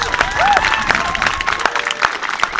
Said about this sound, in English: we've got to give John a bit of a round of applause for the efforts